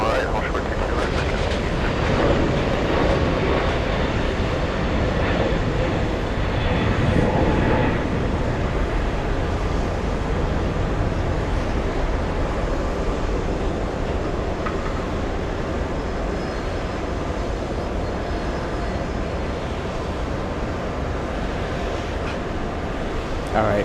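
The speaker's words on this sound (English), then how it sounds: "All right, Air India up next. We're going to go. Takeoff." An Air India airliner roars down the runway on takeoff at JFK airport, a loud sustained engine rumble that stays strong across the clip, with occasional voices beneath it.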